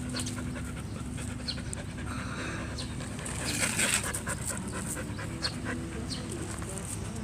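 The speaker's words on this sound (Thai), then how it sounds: "เจอลูกหมาโดยบังเอิญอีกแล้วนะคะเพื่อนๆที่กรมหลวงนะคะ" A small black female puppy pants in quick, rhythmic breaths close by, outdoors in Krom Luang, Songkhla, with faint background sounds around it.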